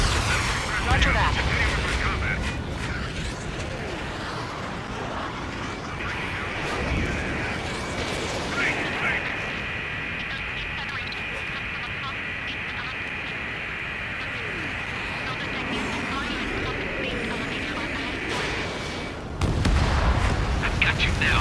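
Aircraft weapons fire in the Ace Combat 7 combat flight game, with booming artillery-like bursts and a sustained whining tone, heard under radio chatter and engine roar throughout.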